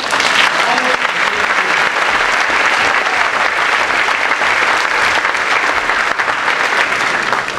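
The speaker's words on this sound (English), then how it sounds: "Give yourselves a round of applause." Sustained applause from the audience at a general assembly fills the room, loud and steady for several seconds with dense clapping and no pauses.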